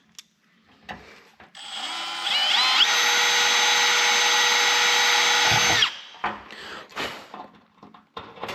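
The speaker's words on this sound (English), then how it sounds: "Drill that hole." A power drill bores a hole in a part from a DIY four-seat Hummingbird 300L helicopter kit: a loud, steady whine lasts about three seconds, with clunks and handling knocks before and after.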